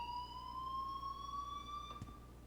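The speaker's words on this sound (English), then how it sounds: "What a weird fire alarm." An unusual electronic fire alarm in the video game Life is Strange sounds as a steady, piercing tone that rises slightly in pitch, with a brief click near the end.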